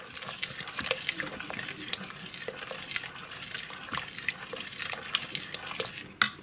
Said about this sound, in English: I'm going to give that all a good stir.